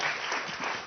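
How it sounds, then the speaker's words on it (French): An audience at a round-table conference on regional health applauds in a brief, steady burst of clapping that sounds somewhat distant and soft. "Je pense qu'on peut vous applaudir."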